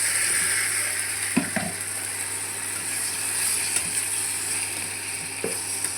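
Chicken with ground masala powder frying in a pan, a steady close sizzle broken by a few scraping clicks of stirring, no voices.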